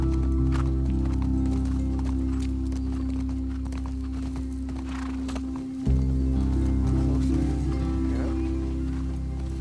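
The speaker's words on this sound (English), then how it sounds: "the last time we rode a horse with Tommy in Last of Us Part 1" Rhythmic hoofbeats of a galloping horse in the video game The Last of Us Part II over a loud, steady low hum, with a brief dropout midway before the galloping continues.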